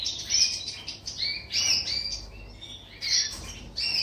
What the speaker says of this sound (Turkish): Hagi Parisyen kuşları